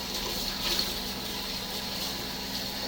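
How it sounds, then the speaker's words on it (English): Water runs from a kitchen faucet while a cooking dish is rinsed out, a steady broadband rush that continues evenly and close by, with no talking. "I'm just going to rinse this out."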